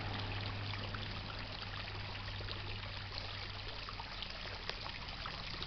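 Water runs from a flushing fire hydrant in a continuous, steady rushing stream, close and unbroken, with a low hum beneath it.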